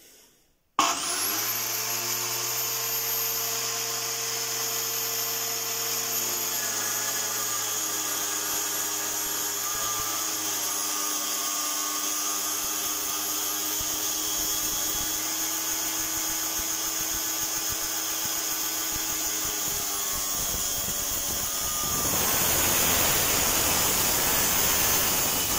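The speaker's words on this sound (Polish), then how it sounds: "sprawdźmy sobie, jak wygląda cięcie tym urządzeniem" A Parkside PMTS 180 A metal cut-off saw runs loud and steady for over twenty seconds, a continuous motor whine with a grinding cutting tone through the middle and a shift in pitch near the end.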